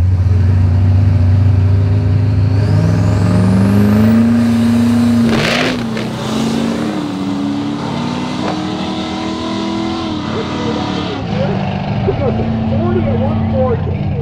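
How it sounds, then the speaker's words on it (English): A 1972 Chevy Nova with an LB7 Duramax diesel swap runs loud and steady up close, its tone climbing and settling through revs while someone talks over the engine throughout. "This is my 72 Chevy Nova with the LB7 Duramax diesel in it."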